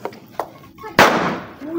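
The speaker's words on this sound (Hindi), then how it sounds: "और ये बच्चे साथ खड़े हुए यहाँ पे पटाखे बजा रहे हैं" Firecrackers set off by children at an outdoor birthday celebration: a couple of small pops, then one sharp loud crack that rings out and decays into crackling, with voices around.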